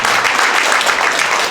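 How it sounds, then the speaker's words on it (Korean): Audience applause at a forum founding ceremony, a dense, steady wash of clapping that holds at full strength throughout without any speech. "박수 한번 부탁드리겠습니다."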